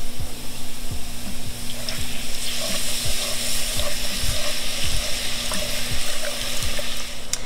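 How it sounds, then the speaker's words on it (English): Beef broth hitting a hot pan while short ribs cook, a steady close sizzle with scattered pops and light stirring clicks. "So now I'm gonna add the beef broth in here."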